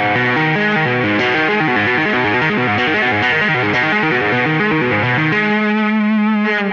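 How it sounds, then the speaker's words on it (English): Distorted electric guitar plays a fast cascading tapped pattern of rapid repeating notes through an effects unit, ending on a sustained chord with vibrato, loud and alone. "we're going to create this cascading motion,"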